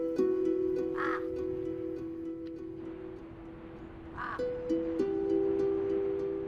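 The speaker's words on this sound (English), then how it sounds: "The only animal life in the volcano, crows, come to scrounge a few crumbs near the tents." Crows caw twice in harsh, separate calls near tents at a camp on a terrace inside the Nyiragongo volcano crater, over a steady background drone.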